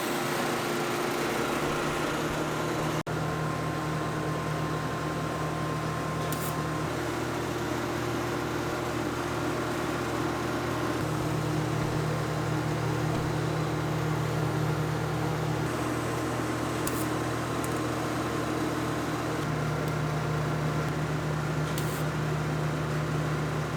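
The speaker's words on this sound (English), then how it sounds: "then we'll get it all the way welded around" TIG welding on Honda Civic rear trailing arms with filler rod, heard as a continuous close electrical hum and buzz with steady tonal lines and slight shifts in pitch as the arc runs on.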